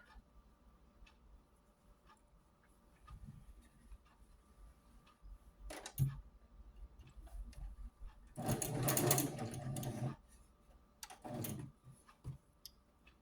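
A sewing machine stitches scrap fabric for a small doll quilt, running in short bursts with pauses and clicks between them as the fabric is realigned, with one longer, louder run in the middle.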